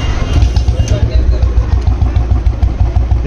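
A Royal Enfield Bullet 350 single-cylinder engine idles close by with a low, steady thumping beat, while voices murmur faintly in the background.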